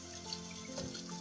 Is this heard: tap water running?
yes